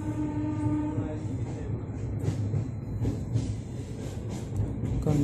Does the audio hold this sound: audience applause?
no